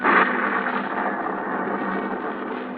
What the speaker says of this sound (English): Now, another storm.